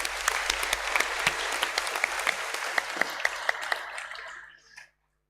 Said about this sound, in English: we'll give them a round of applause at that time